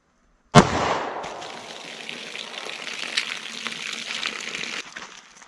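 A 9mm +P Xtreme Defender round is fired into test media, giving one sharp, loud gunshot crack followed by a long ringing, rumbling tail of echo that slowly fades.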